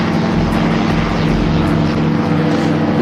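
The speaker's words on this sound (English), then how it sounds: "Microlights." Microlight aircraft flying overhead near the River Weaver trail, a loud, steady droning engine with a buzzing propeller tone that holds constant throughout, with no voices.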